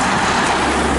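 A UAZ Bukhanka van goes by on the street as a loud, close, broadband rush of engine and road noise across the whole brief moment.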